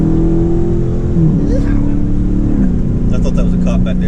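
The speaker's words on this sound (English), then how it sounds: "hit the gas" A car accelerating on a road, its engine tone steady and loud with a pitch shift midway as it climbs, droning continuously under the cabin noise.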